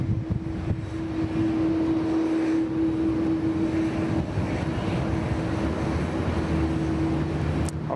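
Airliner taking off at Sydney Airport, a steady loud engine roar with a sustained tonal hum heard from nearby without talk.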